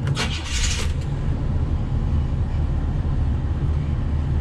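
Car air vents in a box Chevy blowing after a blower fix, a steady loud rushing airflow with low rumble and a brief hiss at the start, continuous and close.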